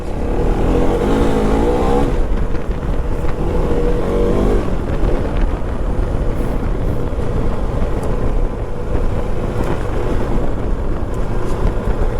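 A 390cc adventure motorcycle accelerating hard, its engine revving up in a rising whine over a couple of seconds, then a continuous loud drone mixed with wind rush, close to the rider's microphone.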